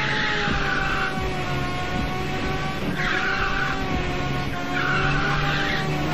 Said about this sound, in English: Another driver firing his nitrous.